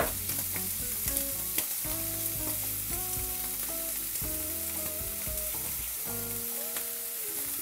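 Bacon sizzles and crackles steadily in a frying pan on a turned-down burner, a continuous close frying hiss with no talking.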